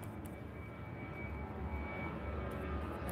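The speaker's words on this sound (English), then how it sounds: "And another plane going by" An airplane passes overhead during a live painting session, a steady broad engine roar at moderate distance that holds evenly throughout, with no voices.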